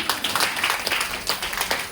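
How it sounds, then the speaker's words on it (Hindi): Applause from a seated meeting audience, a dense patter of many hands clapping together at moderate loudness, continuous and with no voices over it. "एक बार इनके लिए जोरदार ताली"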